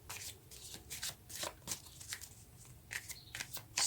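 Tarot cards being shuffled by hand, a steady run of crisp riffling and sliding card sounds with sharp flicks, close and fairly quiet, with no voices.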